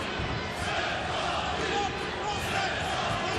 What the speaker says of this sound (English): The crowd are getting into it as well.